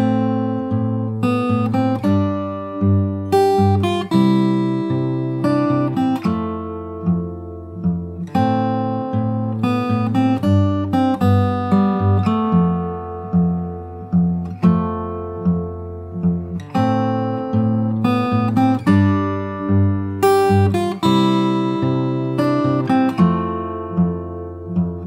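A full pass through the bridge of a pop song on fingerstyle acoustic guitar, with a low plucked bass line, bright upper melody notes and repeated patterned phrases played alone, near and evenly loud, no talking.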